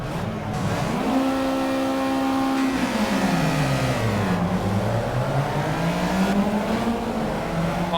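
Race cars in the Project CARS racing game accelerating off the start line, a dense engine roar with rising and falling revs that holds loud and continuous throughout, with no talk.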